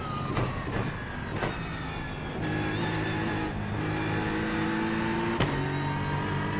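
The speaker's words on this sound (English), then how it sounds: "there's a spot on that fourth gear in the sort of mid-range of the RPM where it just sounds like a jet engine." Race car engine in fourth gear in the iRacing sim at Bathurst, a steady loud mid-range drone with dense harmonics and a few sharp gear-change or rev spikes, no talk.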